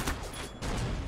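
AK rifle fire in the Roblox game Arsenal comes as two quick, sharp bursts about half a second apart, loud and close.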